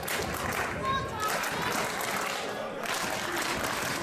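A wrestling crowd claps along in steady rhythm for Brian Cage's pec shake, the applause loud and sustained throughout, with an announcer talking over it.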